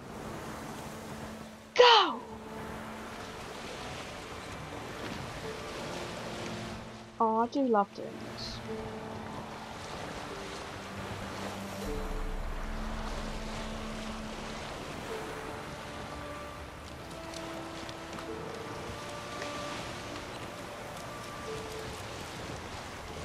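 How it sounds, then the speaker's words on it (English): Boat gliding over open water in The Witcher 3, with steady wash of waves and wind hiss rising after a brief splash-like burst; someone talks excitedly over the watery bed. "let's drive this boat"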